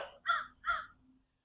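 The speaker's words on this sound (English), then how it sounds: "I love crows so much." A crow gives two distinct harsh caws about half a second apart, fairly faint with quiet in between and a tiny trailing call at the end.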